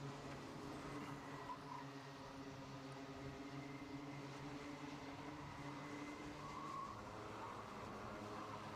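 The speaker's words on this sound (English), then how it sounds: "you can hear these tyres absolutely squealing as the track comes up to temperature" Kart tyres squealing on a warming circuit during a CKC and JKC championship race at Ellough Park, a steady wash of high-pitched engine whine and tyre noise from several karts, held at a constant level throughout.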